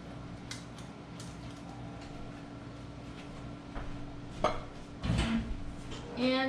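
Hot chocolate is stirred in a cup beside a cooling JetBoil stove: quiet scraping gives way to a few sharper clinks of utensil against the cup near the end, close by and with no talking.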